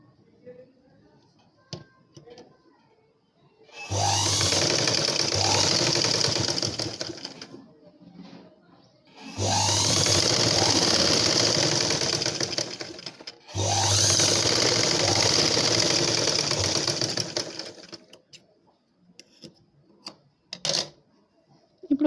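A sewing machine stitches a blouse from the open side in three loud, steady runs of several seconds each, with short quiet pauses between them and faint handling noises around them.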